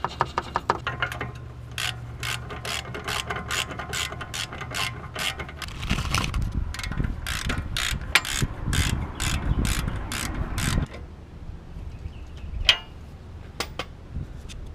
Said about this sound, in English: just tightening this bolt and nut